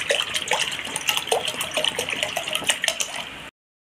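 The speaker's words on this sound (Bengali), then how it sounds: "তো বন্ধুরা, কড়াতে জল দিয়ে দেব।" Water is poured into a kadai (cooking pan) on a lit gas stove for a Bengali dish, making a continuous splashing gush for about three and a half seconds before stopping abruptly.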